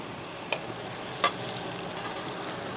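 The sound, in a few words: garlic and ginger frying in a pan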